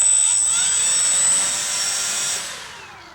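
Electric motor spinning the large four-blade propeller of an FMS P-51D 800mm model plane, a steady high-pitched whine with airy rush close by, holding level and then easing down near the end.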